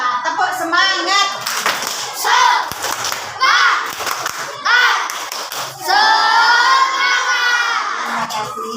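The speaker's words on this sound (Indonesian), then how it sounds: "Tepuk semangat." Schoolchildren in an Indonesian classroom perform a spirit clap, bursts of loud rhythmic hand clapping mixed with excited shouted chanting voices, close and energetic, pausing briefly between rounds.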